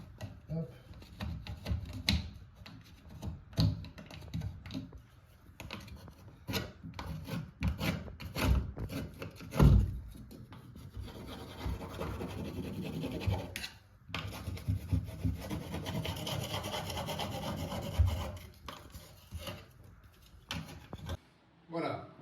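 Old silicone sealant joints are scraped out by hand, making irregular close rubbing, scratching strokes that continue throughout, with someone talking quietly in French over them.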